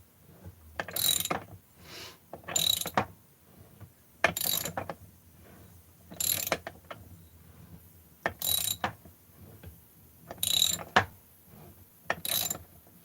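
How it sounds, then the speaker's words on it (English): Ratcheting crank tools click in repeated bursts during crankcase assembly on a Husqvarna 288XP chainsaw, about seven sharp mechanical ratchet runs spaced roughly every two seconds, close and fairly quiet, with no talking. "Just in time to see me use some crank tools."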